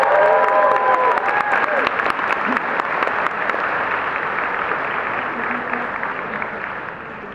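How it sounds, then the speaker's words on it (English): A convention panel audience at DragonCon bursts into loud applause with some cheering, the clapping dense at first and then gradually thinning out; a few voices call out over it early on. "Let's give them a round of applause."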